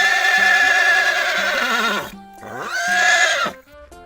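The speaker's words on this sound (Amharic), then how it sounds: "ፈረስ" A horse neighs in a children's story, two loud whinnies close by, the first long and wavering and the second rising and falling, with no voices.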